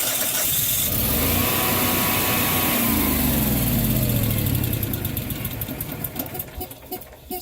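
Generac standby generator engine running, a steady close mechanical drone with a shifting pitch that grows rougher and more pulsing toward the end.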